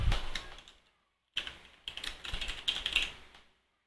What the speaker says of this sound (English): let's rename it to be Yuna's clothing